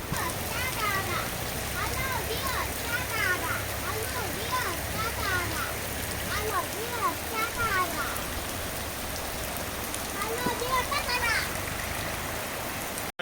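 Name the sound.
forest waterfall stream murmuring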